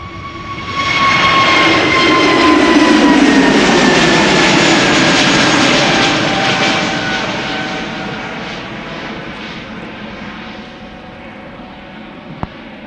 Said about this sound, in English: Next, SAS A329 to Oslo.